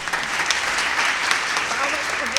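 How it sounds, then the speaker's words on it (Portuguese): An audience at a university philosophy seminar claps steadily in a room, a dense, even patter of many hands with a faint voice underneath. "Palmas para vocês, que são sabores de terem ficado até agora."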